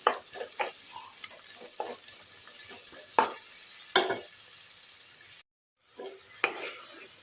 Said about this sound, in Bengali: এই পর্যায়ে আমি এইবার মশলাটাতে একটুখানি দিয়ে দিচ্ছি জল